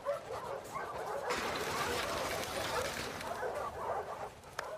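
A dog in The Last of Us Part II barks and whimpers with excited yips, moderately close, as a continuous burst of canine noise with faint talk behind it.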